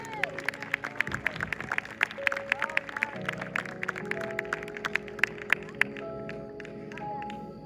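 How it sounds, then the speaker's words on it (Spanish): A church congregation claps for the Lord during a sermon, scattered sharp hand claps ringing out over sustained music for several seconds. "Dele ese aplauso al Señor."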